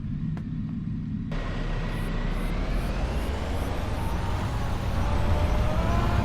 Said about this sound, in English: I love this, one of my favourite tractors this at the moment.